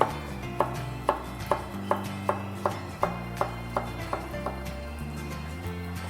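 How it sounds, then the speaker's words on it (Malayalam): A knife slicing a banana into small slices on a board, about a dozen evenly spaced crisp chops that fade slightly toward the end, close and clear. "നമ്മുടെ ബനാന കട്ട് ചെയ്യാം ആ സമയം കൊണ്ട്."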